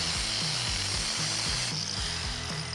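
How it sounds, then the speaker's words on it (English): A power tool grinds and cuts steel close up, pulsing in quick regular strokes while factory weld nuts are cut out of a Jeep TJ frame, no talking. "it's easiest to cut the factory weld nuts out of the frame"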